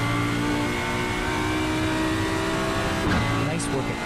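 A race car engine in iRacing at the Nurburgring's Carousel corner, in second gear, drones loudly and steadily at a held pitch, then briefly revs and shifts near the end, with a person talking over it.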